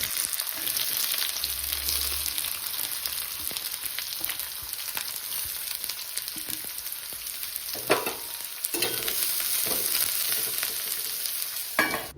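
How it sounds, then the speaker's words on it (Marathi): Garlic, curry leaves and onion fry in hot oil in a pan, a steady close sizzle throughout with occasional scraping stir strokes, no voices. "आता तेलामध्ये लसूण, कढीपत्ता आणि कांदा पूर्णपणे लालसर होईपर्यंत परतायचा."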